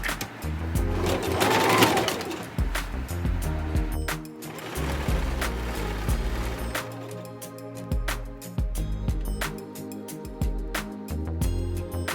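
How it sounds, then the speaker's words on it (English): A sewing machine stitches a wrap dress from the bottom up, running in close, loud bursts of rapid mechanical clatter with short pauses between runs. "Start stitching this from the bottom up."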